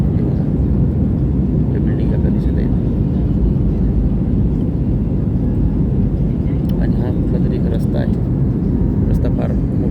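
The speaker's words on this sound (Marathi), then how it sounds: "आता विमान उतरण्याची वेळ झाली आहे" A steady, loud, low roar fills an airliner cabin as it descends toward Delhi on a flight from Leh, with a voice talking over the constant engine and air noise.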